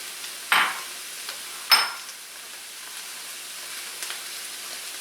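Chorizo dropped into a hot paella pan: two sharp, close bursts of sizzling as pieces hit the oil, followed by a low steady frying hiss and faint clinks.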